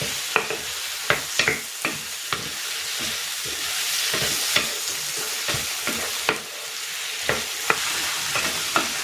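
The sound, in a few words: sautéing shrimp paste (bagoong alamang) with tomatoes in a pan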